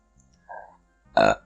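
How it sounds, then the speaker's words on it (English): Two short, close burps, a soft one followed by a louder, deeper one, with no talking over them. "I'm sorry. I burped."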